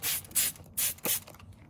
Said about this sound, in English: give it a little more spray.